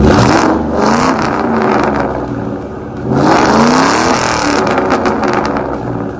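A bagged 2002 Ford Mustang GT with the 2-valve engine revs loudly and close up, its engine note climbing and falling in two strong surges with no voices over it.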